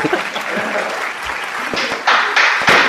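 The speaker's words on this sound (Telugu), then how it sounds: "క్లాప్స్ కొడితే ఎక్కువ సంవత్సరాలు బతుకుతారంట." Audience at a gym prize ceremony breaking into applause, a dense burst of many hands clapping that swells loud near the end, close and continuous over brief room noise.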